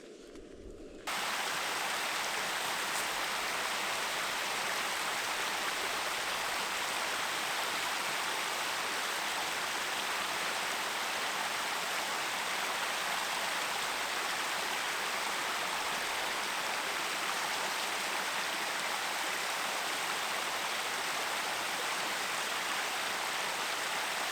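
A cold stream flows in a steady, broad hiss of rushing water on a hike in Lemmenjoki National Park, constant and fairly close, with no voices.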